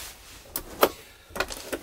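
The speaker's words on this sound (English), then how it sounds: "open this up, which reveals another door for the truck cab" A hatch door into the cab of an expedition truck is opened, giving a few short clicks and knocks of a latch and panel against a quiet background.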